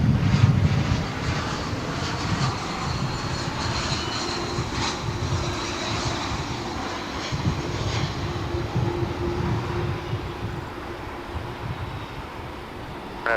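Jet aircraft engine roaring steadily at DFW International Airport, a broad sustained rumble of a plane preparing to take off, moderately loud and continuous with no talk.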